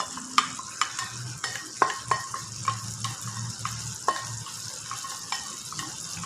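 Kichap, a thick soy sauce, goes into a pan of squid being stir-fried, with a steady close sizzle broken by regular sharp spatula scrapes and clinks and no talking.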